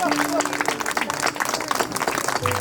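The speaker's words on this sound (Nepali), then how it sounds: "ताली बजाइदिनुहोस्" Guests clap at a Christian wedding ceremony, a loose burst of many hands with voices and faint tones mixed in, and the clapping thins toward the end.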